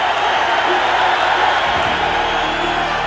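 Broad, steady roar of a partisan home crowd at a boxing match on network television, a dense wash of cheering that holds at a constant level with no single voice standing out.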